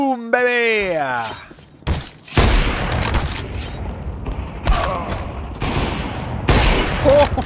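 Gunfire from a jump shot in Counter-Strike 2 rings out in sharp loud bursts amid booming game effects, with a voice drawn out in an exclamation near the start.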